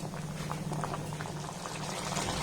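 Water boiling hard in a pan over a high gas flame: a quiet, continuous bubbling with a steady low burner hum and no talking.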